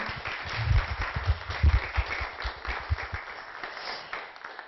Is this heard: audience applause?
yes